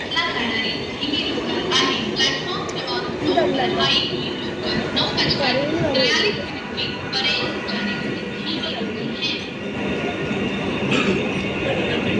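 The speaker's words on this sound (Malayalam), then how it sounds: "മുംബൈയിലെ ട്രെയിനുകൾ ഇത് നമ്മൾ വീഡിയോയിലൊക്കെ കാണുന്നത് തന്നെ ആണ് ഈ യഥാർത്ഥ ട്രെയിൻ" A Mumbai suburban train rumbles along with rhythmic clattering wheels and occasional metallic squeals, steady and close, while people talk over the noise.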